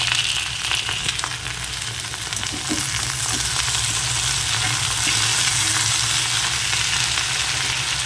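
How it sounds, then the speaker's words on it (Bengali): Fish frying in oil in a home kitchen produces a continuous close sizzle with light crackling and occasional stirring or pan sounds, steady for the whole stretch and without speech. "আর এখানে আমি মাছ ভেজেছি।"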